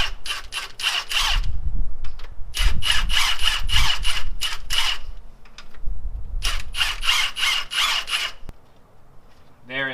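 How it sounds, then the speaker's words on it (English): An impact wrench on its lowest setting spins out LS1 cylinder head bolts, loud close bursts of rattling hammering in separate runs with short pauses between them. "I'm gonna use my impact"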